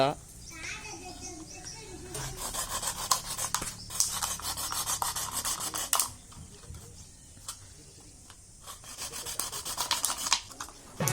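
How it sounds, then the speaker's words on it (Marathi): A plastic bottle being cut open to build a fish trap: close scraping and rasping of blade against plastic in uneven bursts, with children talking throughout. "बघा अशी बॉटल कापतोय"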